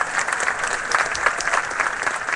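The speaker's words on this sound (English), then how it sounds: "warm round of applause for Sharif." Audience applauding at a community ceremony honouring a newly promoted police sergeant, steady dense clapping from a seated crowd that stays even throughout, with no speech over it.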